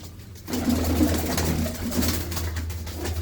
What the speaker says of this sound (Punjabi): ਕਬੂਤਰ ਪੂਰੇ ਪੂਰੇ ਵਧੀਆ ਨੇ